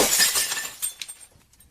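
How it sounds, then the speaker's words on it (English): A glass window smashes with a loud, close crash, then scattered shards tinkle and patter as the sound fades over about a second. "A loud smash filled the house."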